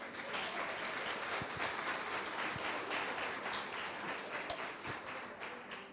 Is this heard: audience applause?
yes